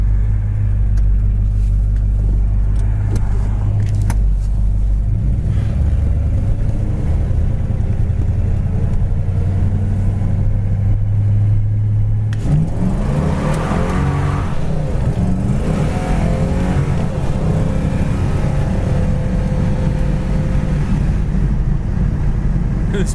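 A 1970 Buick GS 455 Stage 1 rumbles loudly from inside the cabin while driving, with a deep, steady drone that shifts and rises as it pulls through the gears, and no talk over it.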